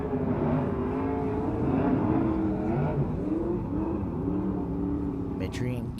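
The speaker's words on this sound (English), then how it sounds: "McFadden really starting to spin the tires up," Race cars spin their tires and rev on the Grays Harbor Speedway track, engines wavering up and down in pitch as they rise and fall, moderately close, with a commentator talking over them.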